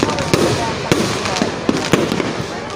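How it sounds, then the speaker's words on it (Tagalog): Fireworks burst and crackle through the traditional display closing the Flower Festival, sharp loud bangs landing irregularly over a dense, noisy crowd wash with voices mixed in. "maingay at makulay ang pagtatapos ng Flower Festival dahil sa tradisyonal na fireworks display"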